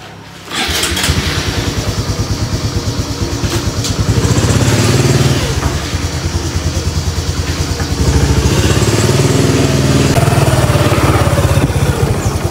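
A motorcycle engine starts and then runs steadily at close range, carrying a rider off in the early morning. Its pulsing putter holds for the full length, with the revs swelling a little partway through and no voices over it.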